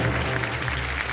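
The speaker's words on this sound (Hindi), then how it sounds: "जोरदार तालियां बजे हमारे प्रदेश के लिए।" A studio audience on the KBC quiz show set claps in a steady, dense wash, close and continuous with no break.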